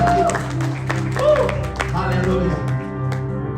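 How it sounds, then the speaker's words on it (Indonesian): A church congregation applauds during a Sunday worship service, scattered claps ringing out over sustained music and voices in a large room. "beri tepuk tangan yang paling meriah buat kita"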